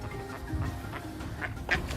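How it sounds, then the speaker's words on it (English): Several duck quacks, short and nasal, scattered through a low, busy outdoor background beside a dyke on the Norfolk Broads, moderately close and not very loud. "Got quite a few ducks around us wanting some food"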